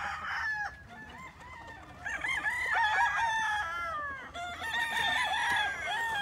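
Several pure and crossbred gamecock roosters crowing in overlapping calls, with clucking between them, fairly close and clear against a quiet farmyard background.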